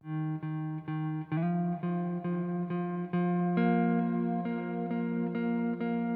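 Electric guitar plays a lead line with no EQ applied, repeated picked notes, each attack sharp and evenly spaced, sustaining and bending slightly higher toward the end.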